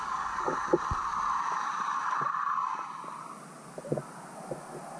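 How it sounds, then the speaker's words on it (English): A passing boat heard underwater near crabs, a low droning engine hum with a whining tone that fades out, interrupted by a few soft knocks and thumps. "Notice in the background how well you can hear this passing boat."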